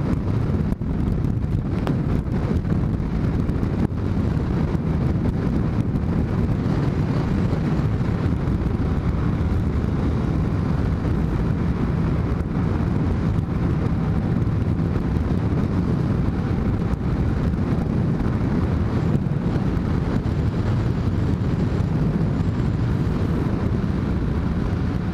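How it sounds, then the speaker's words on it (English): A Kawasaki W800 motorcycle on a test ride, its exhaust drone blended with heavy, steady wind rush across the microphone for the whole stretch, with no break or pause. "Listen to that thing. Man, that exhaust note sounds sick."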